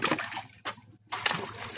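Water is bailed out by hand to catch fish: a few close, sharp splashes and sloshes come in quick bursts separated by short pauses.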